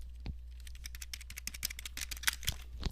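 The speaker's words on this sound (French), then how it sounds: "petit ASMR avec mon clavier qui veut pas marcher" Malfunctioning computer keyboard being typed on, a dense, uneven run of close, crisp key clicks and clacks with no talk.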